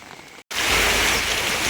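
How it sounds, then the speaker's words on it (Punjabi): Heavy rain pours down on a flooded town street in Tapa, Punjab, a loud, dense, close hiss that resumes after a brief cut. "ਹੁਣ ਵੀ ਲਗਾਤਾਰ ਮੀਂਹ ਪੈ ਰਿਹਾ ਹੈ"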